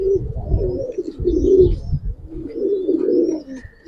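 A pigeon coos close by in a series of about four low, throaty, rolling phrases with brief pauses between them, alone with no talk.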